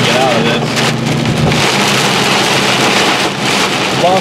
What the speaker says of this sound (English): A lot of wind and rain in here too.